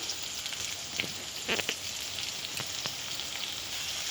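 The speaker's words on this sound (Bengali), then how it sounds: "পেঁয়াজ টমেটো দিয়ে দিলাম" Onion and tomato frying in a pan, a soft continuous sizzle with a few faint stirring clicks, moderately quiet.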